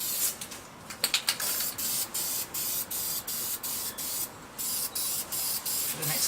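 Aerosol can spraying a light tack coat of paint onto motorcycle engine parts, a Yamaha XS650 head and rocker box, in a shed; a series of short bright hissing bursts in quick rhythm, close and moderately loud.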